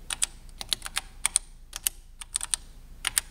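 Quick bursts of keystrokes on an Apple IIe computer keyboard, sharp clicky taps in short uneven clusters with brief pauses, close and clear with no voices.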